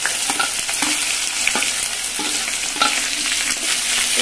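Dried red chilies, tempering spices and curry leaves fry steadily in hot oil, giving a continuous close sizzle with scattered crackles and stirring scrapes throughout.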